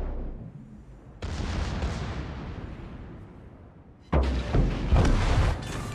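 Torpedo hits explode in World of Warships, two heavy booms a few seconds apart, each a sudden loud blast trailing into a long rumbling decay, the second one harder and more crackling, no voices heard.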